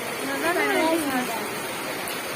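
Floodwater of the swollen Tiu river rushes past in a steady, broadband roar that stays close and even throughout, with a muffled voice briefly rising over it.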